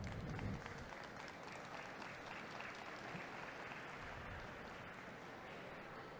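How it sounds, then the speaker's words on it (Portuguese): An audience applauds to welcome a speaker at a Sebrae entrepreneurs' fair talk, producing sustained, dense clapping from a crowd in a hall at moderate volume that continues evenly throughout. "uma salva de palmas para o Ítalo"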